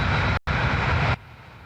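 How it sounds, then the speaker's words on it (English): An airplane takes off at Heathrow airport, a loud broadband engine roar that briefly cuts out, then continues before dropping abruptly to a quieter rumble. "Planes were taking off from Heathrow today"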